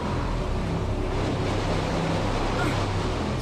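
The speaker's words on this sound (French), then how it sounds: "on pourrait se dire que le vent il va peut-être se calmer" Cold wind roars steadily across an exposed, icy landscape in the survival game Near Death, a dense, loud gusting rush with a low rumble and no break.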